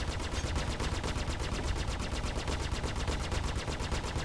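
Spaceship guns strafe in Star Citizen, flying an M50: a continuous rapid burst of automatic fire rattles at a fast, even rhythm throughout, loud and close, with no talking over it.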